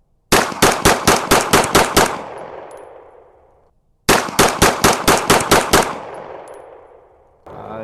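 Swiss SIG P210 (P49) pistol firing two rapid strings of about eight shots each, loud and close with echoing tails, a pause between the magazines.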